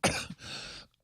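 A couple of rough, close coughs or throat clears, a sharp burst followed by a longer raspy one, then quiet.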